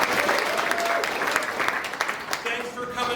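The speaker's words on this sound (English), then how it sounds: "Clap your hands if you've never been here before." An audience at an improv comedy show claps steadily throughout, with a tone audible under part of the applause and faint crowd voices mixed in.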